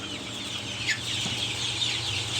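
Chickens cluck softly amid a steady background hum, with a few faint bird calls and no talking.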